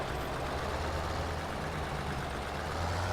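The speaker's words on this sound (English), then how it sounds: "Looks nice on this tractor." A tractor idles in the video game Farming Simulator 17, its engine giving a steady low rumbling drone at constant loudness, close and uninterrupted, with no voices.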